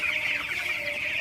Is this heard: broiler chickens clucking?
yes